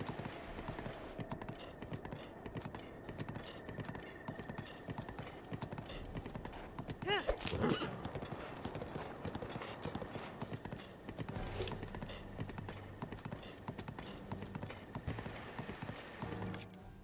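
Steady hoofbeats of a galloping horse in The Legend of Zelda: Breath of the Wild drum on continuously, with a brief whinny partway through and a voice speaking over the busy, noisy mix.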